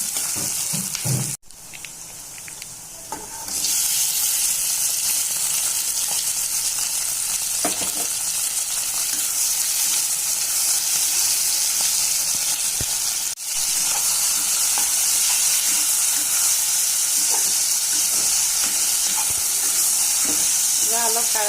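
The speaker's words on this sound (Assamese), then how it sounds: "এয়া কলডিল বইল কৰি ভাজি লৈছোঁ।" Boiled banana flower frying in a pan, a steady close sizzle with stirring that runs loud and unbroken after a brief quieter start, with a soft voice faintly underneath.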